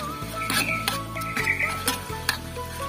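Spices being sautéed in a pan until wilted give a soft sizzle with clinks and scrapes from the stirring spatula, close and moderately loud over a low steady hum, with no voices.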